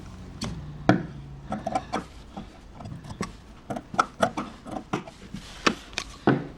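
Scissors cutting out a fabric piece for a baby frock, a run of sharp snips and clicks spaced irregularly, with soft rustling of the cloth between cuts, close up and alone.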